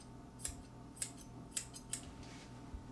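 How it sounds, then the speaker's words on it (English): Scissors snip a dog's hair while trimming long fur during a mohawk cut, five or six crisp, faint metallic snips at an uneven pace over quiet room noise. "you can actually just use scissors and just trim along"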